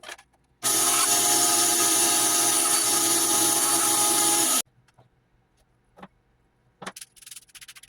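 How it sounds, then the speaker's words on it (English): Wooden strips for the bellows of a century-old organ are sanded with a tool. The sanding is a loud, continuous, close rasp that lasts about four seconds, and faint handling knocks follow once it stops. "Here I'm sanding them down a little bit and putting them in place"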